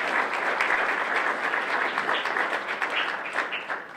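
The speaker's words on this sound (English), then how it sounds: "Let's have a round of applause for FCR." Audience applause at a White Ribbon Day event, a steady roomful of clapping hands that holds for about four seconds with no talk over it.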